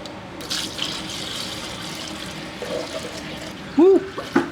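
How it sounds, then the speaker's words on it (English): Liquid bubbles and splashes while a car's cooling system is filled: a steady wet gurgle with a louder burst of bubbles near the end. "Big old bubbles."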